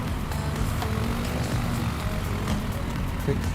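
A propeller aircraft engine roars at full throttle in Flight Simulator 2020, a steady droning hum that stays constant, with a voice talking over it.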